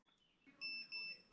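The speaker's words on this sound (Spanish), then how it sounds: "ese pitido que se escucha, no es el encuentra mi dron de DJI, sino es ese beeper que yo pongo paralelo" Small loud beeper fitted alongside a crashed DJI Mavic Air 2 drone, heard as two sustained high-pitched electronic tones, each about a quarter second, following a faint earlier chirp in a quiet outdoor setting.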